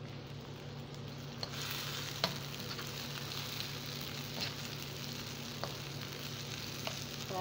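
Cabbage and tomatoes fry in a pan with a soft, steady sizzle and a few faint clicks of stirring, heard alone at a low level.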